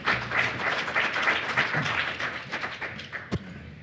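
A room full of people claps and applauds, loud at first and then thinning out into scattered claps, ending with a soft thump.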